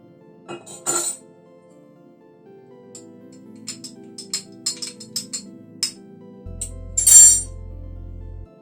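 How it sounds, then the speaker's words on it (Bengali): A spoon clinks against a small cup while dissolving a quarter spoon of asafoetida in water in a home kitchen, with a few sharp bright taps spaced apart, then one louder clink near the end. "এখানে 1/4 চামচ হিং নিয়েছি, হিংটা একটু জলে গুলে নিচ্ছি"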